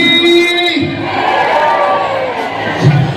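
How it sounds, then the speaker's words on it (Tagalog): A rally crowd in Hong Kong for VP Sara Duterte shouts and cheers loudly, a dense sustained roar of many voices with whoops rising near the end; a voice on a loudspeaker talks over the start. "malakas muli na hiyawan!"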